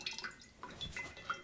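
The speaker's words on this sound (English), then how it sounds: "let's see if we can filter water with gravity." Water dripping through a Sawyer Squeeze gravity water filter, a faint, close patter of small irregular drips against a quiet background.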